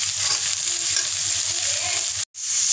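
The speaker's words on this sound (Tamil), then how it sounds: "வெங்காயம் சேர்த்தாச்சு, இது நல்லா வதங்கட்டும். பச்சை மிளகாயும் கூடவே சேர்த்தாச்சு." Onions and green chilies sautéing in a pan for a fish curry, a loud, close, continuous sizzle with faint stirring beneath it and a brief cut near the end, no voices.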